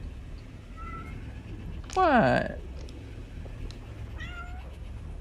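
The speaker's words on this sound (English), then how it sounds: "Oh, that's my cat." A domestic cat meows indoors during a live game session: one loud, drawn-out meow near the middle, then a quieter short meow later, with a brief spoken word over a low background hum.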